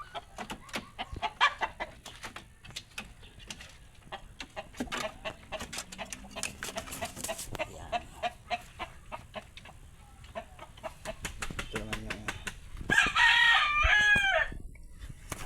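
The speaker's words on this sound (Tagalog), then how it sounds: "Ito naman yung ating inahin." Hens cluck steadily at close range, with a loud rooster crow rising near the end.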